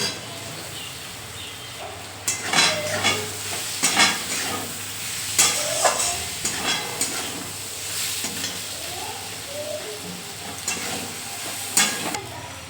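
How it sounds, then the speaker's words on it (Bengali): Soybean chunks sizzle in a fried spice paste in a pan while a spoon stirs and scrapes them in irregular strokes, with the frying hiss close and constant underneath. "যে মশলাটা কষে গেছে এবার দিয়ে দিলাম সোয়াবিন"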